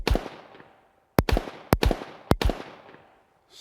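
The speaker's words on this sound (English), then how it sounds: "SnakeShot in a semi-auto pistol." Doubletap SnakeShot rounds fired from a semi-auto pistol, five sharp, loud cracks: one single shot, then two quick pairs, each with a short ringing decay.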